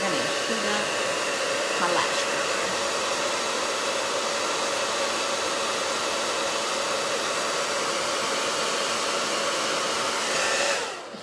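A blow dryer runs steadily and loudly for about eleven seconds, heating an eyelash curler with a constant airy whoosh before cutting off at the end.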